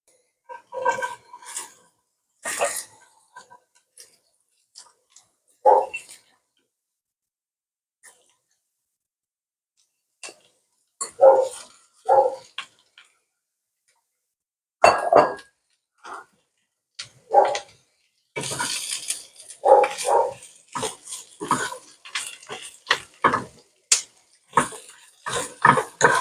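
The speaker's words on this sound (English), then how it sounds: "You can hear the dog barking." A dog barks in irregular bursts, some barks clustered together and others separated by quiet pauses, fairly close.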